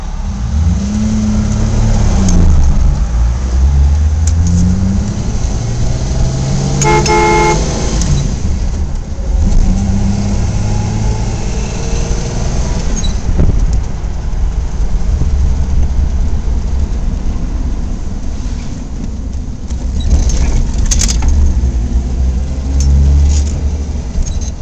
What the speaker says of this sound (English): There it is, 1966 Ford Mustang convertible.